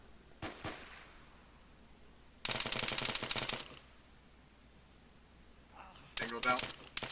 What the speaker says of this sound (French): Coup de feu distant.